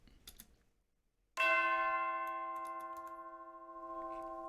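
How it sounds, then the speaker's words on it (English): Glockenspiel and tubular bells ring out in wintry Christmas game level music, a bright struck chord entering after a short quiet pause and sustaining loudly with a long shimmering decay, no voices. "I've got Glockenspiel doing this little thing here at the start of every, like, 8 bars or whatever"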